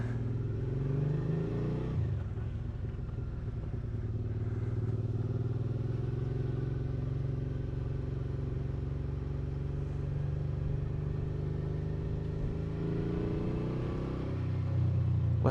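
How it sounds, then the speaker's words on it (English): A 2019 Suzuki V-Strom 650 motorcycle engine runs steadily with a low, throaty exhaust rumble, continuous and fairly close throughout, with a slight change in tone near the start. "listen to that exhaust a little bit more."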